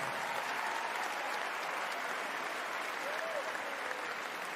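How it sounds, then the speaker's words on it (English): Sustained applause from an audience at a basketball jersey retirement ceremony honoring former players, a dense, steady wash of clapping filling the room without pause. "a massive round of applause for our greats"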